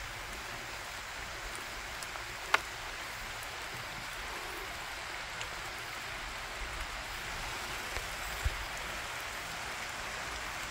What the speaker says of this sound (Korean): 빗소리 좋아.